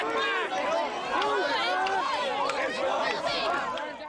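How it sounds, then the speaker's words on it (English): A riot crowd surges against a police line, a close, dense roar of shouting and agitated voices with scuffling movement throughout, loud and continuous. "police tried to beat back the surging crowd"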